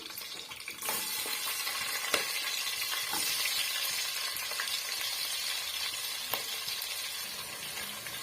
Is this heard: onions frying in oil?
yes